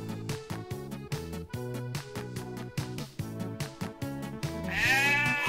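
Repeated sheep bleats from the video game Farm Frenzy in a rhythmic, music-like pattern, loud and close, with a rising swoosh effect at the end; no talking.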